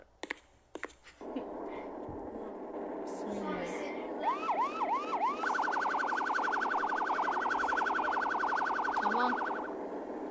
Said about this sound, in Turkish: Arkadaşlar sirenlerden rahatsız olursanız kapatabilirim.